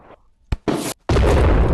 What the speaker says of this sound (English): So it does a big explosion.